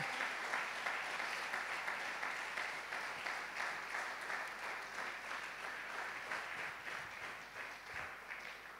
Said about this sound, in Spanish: Alguien puede aplaudirle a Jesucristo.